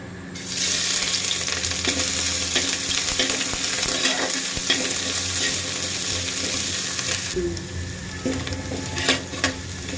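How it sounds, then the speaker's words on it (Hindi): Steady sizzling of grated garlic and ginger frying briefly in a hot pan, with spoon stirring and scraping throughout, easing off near the end; no one speaks. "लहसुन और अदरक को हमें ज़्यादा फ्राई नहीं करना है, थोड़ा सा फ्राई करना है।"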